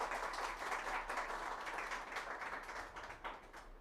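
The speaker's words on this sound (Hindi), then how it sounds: "तालियों से आप इनका स्वागत करेंगे।" Steady applause from a crowd, dense overlapping claps that hold for a few seconds and then taper off slightly at the end.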